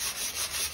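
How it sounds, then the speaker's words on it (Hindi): A brush scrubs dust off the grass cooling pad of a Maharaja Rambo desert air cooler, giving a steady close rubbing sound in short back-and-forth strokes. "ब्रश की सहायता से इस पर जमे हुए धूल को साफ कर लें"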